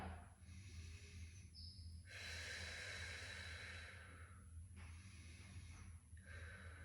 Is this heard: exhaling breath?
yes